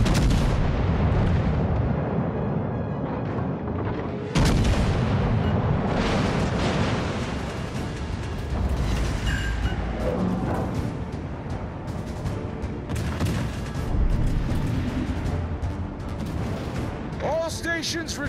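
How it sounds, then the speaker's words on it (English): Warship naval guns in World of Warships Legends, on the Bellerophon, firing as repeated heavy booms over a constant engine and sea rumble, with a voice giving battle commands during the exchange. "Concentrate fire on the enemy warship."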